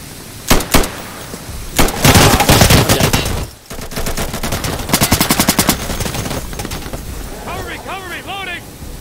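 Rapid automatic gunfire bursts and single shots from the tactical shooter Insurgency, loud and close, repeating in several clusters through the whole stretch, with chirping sounds near the end.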